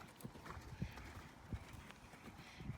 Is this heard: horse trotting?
yes